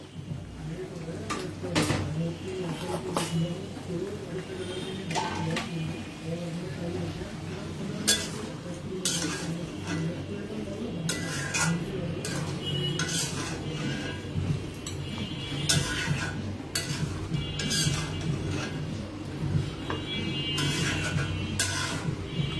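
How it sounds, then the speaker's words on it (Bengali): Beef for biryani being stirred and cooked down in a pan, with scattered metallic clinks and scrapes of the utensil under steady talk. "এইটা এইভাবে আমরা এখন 5 মিনিটের মতো কষাবো। মাংসটা 5 মিনিটের মতো আমরা কষাবো।"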